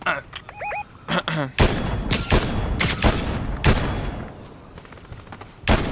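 Rapid bursts of Fortnite gunfire crack through the clip, several volleys and loud blasts in quick succession, with fainter voices underneath.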